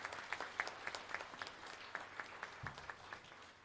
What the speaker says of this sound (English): let's give Dr. Dalvie a round lot of applause